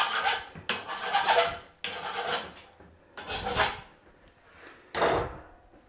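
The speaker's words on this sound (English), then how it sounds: "Get this little file anyway." A small file rasps across the cut end of a 20mm metal conduit in about five separate, close scraping strokes, each a gritty burst followed by a short pause.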